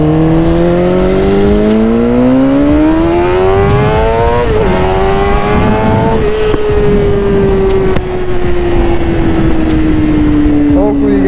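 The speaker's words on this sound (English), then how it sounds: "That thing is ridiculously loud. It's a full carbon Akrapovich." A Suzuki GSX-R motorcycle with a very loud full carbon Akrapovic exhaust revs up steadily, engine pitch climbing and then holding at a high, droning whine, close and dominating.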